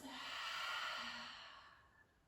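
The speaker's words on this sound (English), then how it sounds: "exhale all the air out" A long, breathy exhale out through the mouth at the end of a guided breathing sequence, close and soft, swelling, then fading over about two seconds.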